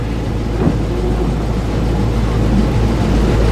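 Old red 1984 truck with about 84,927 miles on it, driving with a steady, loud engine drone and road rumble, no voices.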